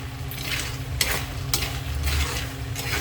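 Grated garlic frying with peanuts for adobong mani gives a constant close sizzle, broken by several sharp scraping strokes of a spatula stirring the pan at irregular intervals.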